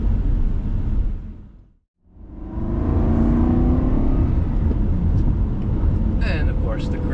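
A 2007 Aston Martin Vantage cruises on the road, tire and engine rumble fading to near silence then swelling back into a steady low drone with faint whine, heard from inside the car.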